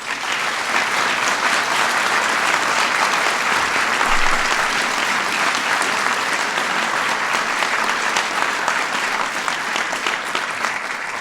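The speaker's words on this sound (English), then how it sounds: "So give all of them a big round of applause." Audience at a National Medal of Science and Technology ceremony breaking into sustained, dense applause, a steady loud wash of many hands clapping throughout with no one speaking.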